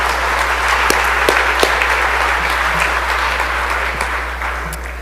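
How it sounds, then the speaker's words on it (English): Legislators and guests applaud on the floor of the Mississippi House of Representatives, steady clapping that fills the chamber evenly with a few sharper claps standing out, gradually tapering toward the end. "So y'all give them an applause."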